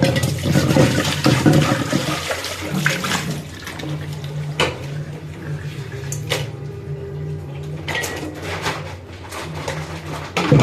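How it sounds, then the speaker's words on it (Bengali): Small puti fish are rinsed with salt in water, splashing and sloshing close by with intermittent clatters of a pot or bowl, under a voice speaking. "আমি লবণ দিয়ে হচ্ছে মাছটা ধুবো সুন্দর করে"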